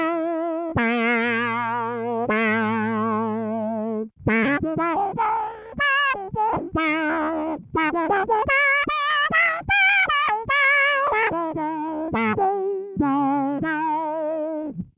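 A guitar synth pedal pitched up with its low-pass sine wave removed plays a run of buzzy, warbling synthesized notes, some sustained and some short and choppy, loud and alone.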